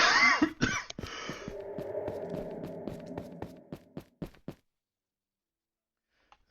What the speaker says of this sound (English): I think I'm going to cough again